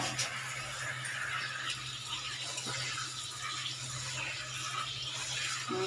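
Water runs from a tap in a home kitchen as a faint, steady hiss and splash, continuous and unbroken, with no talking.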